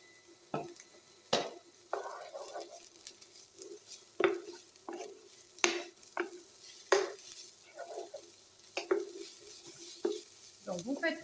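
Porcini mushrooms with shallot and parsley sauté in olive oil in a pan, a soft steady sizzle under repeated scraping and stirring clicks of a utensil against the pan, close and fairly quiet.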